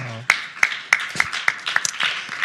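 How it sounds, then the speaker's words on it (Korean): A church congregation claps in thanks during a service, a steady run of sharp, evenly spaced claps after a brief voice at the start. "우리 감사의 박수 하겠습니다"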